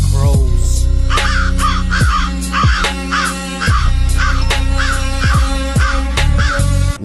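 Loud crows caw repeatedly in an even, rhythmic series, about one call every second, set over a heavy bass beat and sustained tones in a rap track.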